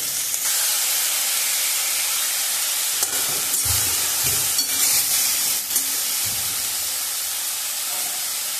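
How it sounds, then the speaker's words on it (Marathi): Onion, tomato and capsicum fry in ghee with a loud, steady hissing sizzle, broken by a few low thuds and scrapes of stirring partway through. "आता त्याच्यात कांदा आणि टोमॅटो आणि ढोबळी मिरची मऊ शिजेपर्यंत छानपैकी फ्राय करून घ्यायची"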